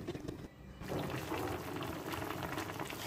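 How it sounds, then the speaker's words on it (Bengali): Cauliflower, potato and soy chunks tipped into hot spiced oil in a pan, a steady close bubbling sizzle that swells after a brief dip and holds evenly, no voices. "এখন আমি সবজিগুলো দিয়ে দিলাম, ফুলকপি, আলু আর সয়াবিন দিয়ে।"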